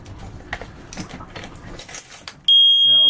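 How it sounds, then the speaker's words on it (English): A boat's loud, steady electronic engine alarm tone starts partway through and holds continuously, with a second pulsing beep underneath, following a stretch of clattering and talk. "Turn these alarms off for a minute so you can actually hear me."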